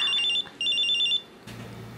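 A mobile phone ringtone sounds in two bursts of repeated electronic beeps, close and clear, with a short gap between them before the ringing cuts off into low background noise.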